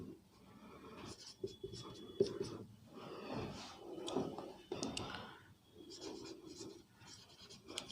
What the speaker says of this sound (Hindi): मान लो मैं आपके लिए एक क्वेश्चन लिख रहा हूँ